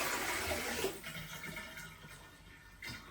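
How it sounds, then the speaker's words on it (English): Clean water poured into a toilet bowl during a Korky WaxFree seal installation on a flange set half an inch below the floor: a loud gushing splash that eases into a softer trickle, with a brief swell of water near the end. "I'm gonna just put some clean water in here and see if that spills out all over the floor"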